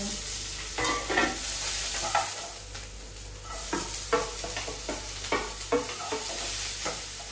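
Green chillies and curry leaves sizzle in a tempering pan, with a steady frying hiss broken by repeated scraping stirs, close and moderately loud, with no voices.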